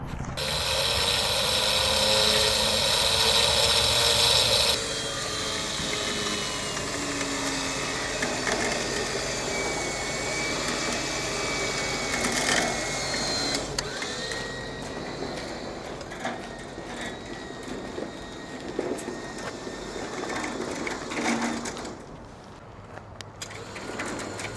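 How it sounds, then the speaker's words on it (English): A winch drags a trailer out from under a hearse, giving a ratcheting mechanical grind with clanks and rattles that runs throughout, strongest in the first few seconds and then steadier. "now I have to use the winch to see if I can get the trailer to pull out from under the hearse"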